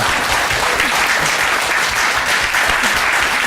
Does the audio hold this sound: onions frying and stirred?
no